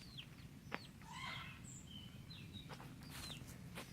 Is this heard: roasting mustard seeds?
no